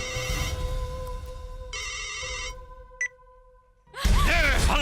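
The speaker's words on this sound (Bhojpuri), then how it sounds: "फोन लगा के दे रहे आशिक भैया" A phone rings during a call: electronic ringtone tones repeat for a few seconds, a short beep follows, and then a burst of louder, busy sound cuts in.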